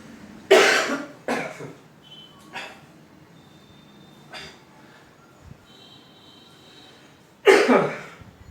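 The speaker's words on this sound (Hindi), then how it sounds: "खांसी आ रही है उधर" Several harsh coughs, two close together at the start, a few fainter ones in between, then one more loud cough near the end, with quiet pauses between.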